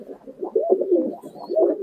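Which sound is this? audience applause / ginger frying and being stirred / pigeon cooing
pigeon cooing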